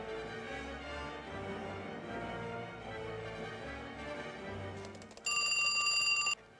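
A telephone rings in a short, loud, steady electronic burst near the end, following a stretch of background music in a zombie and vampire game.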